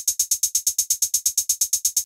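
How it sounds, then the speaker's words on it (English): Straight sixteenth-note closed hi-hat from a drum machine, bright and metallic, ticks evenly about fifteen times with short tails, close and alone before stopping cleanly. "very, like, metallic sounding closed hi-hat,"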